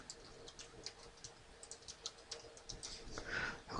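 Rapid computer keyboard typing as a web address is entered, a steady run of light close clicks with uneven rhythm and a slightly louder burst near the end.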